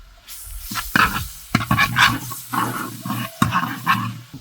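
Chopped garlic in hot oil crackles and sizzles loudly in bursts, with sharp pops and spits, close up and without voices.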